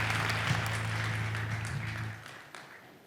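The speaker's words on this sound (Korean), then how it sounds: "우리 수고하신 목사님, 선교사님들 큰 감사의 박수 드리겠습니다." A church congregation applauds during an ordination thanksgiving service, steady moderate clapping that fades away toward the end.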